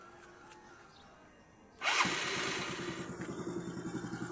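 A Honda Mio Soul scooter with a stock engine, stock carburetor and airbox cranks over and catches, then settles into a steady, close, pulsing idle after a quiet opening.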